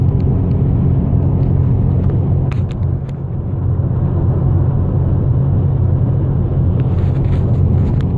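Steady low road rumble from inside a Plum Crazy Dodge Challenger R/T driving on the I-10 highway, a loud continuous drone of engine and tire noise with no break.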